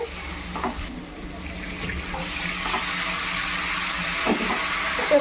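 Spices with a little chili powder fry and get stirred in a pan for a Bengali fish-head dal dish, a steady moderate sizzle building slightly, with a few soft scraping stirs.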